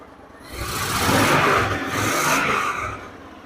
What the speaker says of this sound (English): When you saw me give it gas, it does kind of hesitate at the beginning.